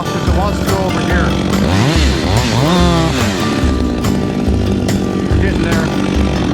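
Chainsaw making a back cut into a leaning tree, its engine snarling loud and close throughout, pitch rising and dipping as the throttle and load shift, with a voice partly heard beneath the engine.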